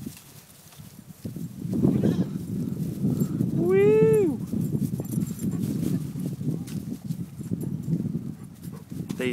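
Goats moving about in their new grassy pen, hooves and shuffling under steady ambient noise, with one clear bleat in the middle.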